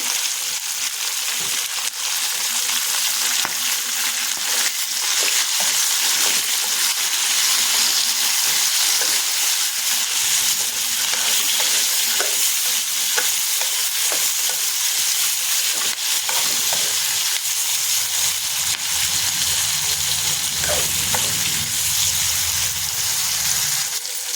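Tomatoes fry in hot oil for gongura chutney, giving a loud, steady sizzle and crackle that runs the whole time, with occasional stirring scrapes and no talking.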